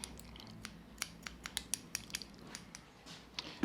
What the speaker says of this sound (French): Tu continues à faire cliqueter ces ciseaux.